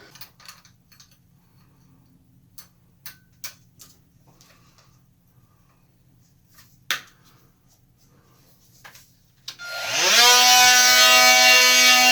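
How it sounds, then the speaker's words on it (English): An oscillating multi-tool cutting out a bathroom wall starts near the end as a loud, steady, high buzzing whine. Before that, a few faint scattered clicks and taps sound in a quiet room. "I'm back with a fresh pack of multi-tool blades. I'll cut this whole thing out."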